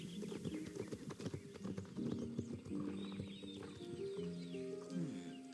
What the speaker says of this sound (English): let's get on our horse